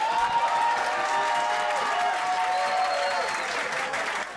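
Steady round of applause from a studio talent-show audience, a dense continuous wash of clapping with faint cheers and a few voices, fading slightly at the end.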